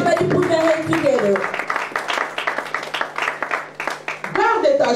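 A church congregation claps hands in a steady, rapid ongoing patter, with a voice speaking over it at the start and end.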